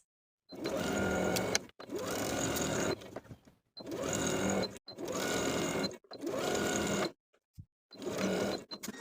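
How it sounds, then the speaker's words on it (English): A sewing machine stitches the skirt to the bodice seam of a dress in five or six separate bursts of steady whirring, each about a second long, with short pauses between them and no talking. "Sew the skirt from center front to the main bodice piece with a 3/8 inch seam allowance"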